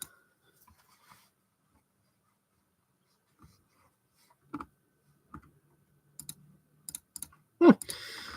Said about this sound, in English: I'm clicking around as well